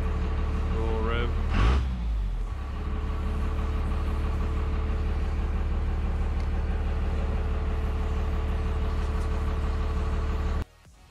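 Cummins 6BT 12-valve diesel engine in steady idle with a brief rev early on that rises and falls, a constant loud low rumble that cuts off abruptly near the end.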